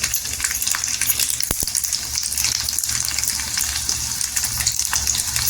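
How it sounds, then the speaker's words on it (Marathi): Garlic dropped into hot oil with cumin seeds in a pan gives a steady broadband sizzle that runs throughout, with a couple of brief sharp clicks near the start and no voices. "इथे लसूण टाकून घ्यायची लसूण छान अशी गोल्डन कलर झाला पाहिजे"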